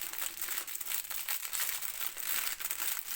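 Resealable plastic bag being opened, a continuous close crinkling and crackling of plastic that carries on steadily for a few seconds with no talk.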